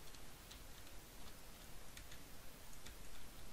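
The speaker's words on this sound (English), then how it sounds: "Oh, so it rains again." Steady rain falls in Minecraft with the Tropicraft mod, a continuous broadband hiss laced with faint intermittent ticks and patters, unbroken throughout and without any talk.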